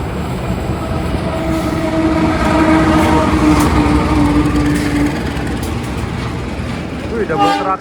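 A train with two locomotives rumbles past close by, steady and loud, with a sustained horn tone partway through and a voice briefly speaking near the end.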